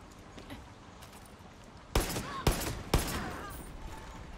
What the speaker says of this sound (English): They're shooting like they want to blow themselves up.